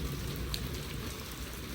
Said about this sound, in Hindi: बारिश जो है वो तेज़ हो चुकी है।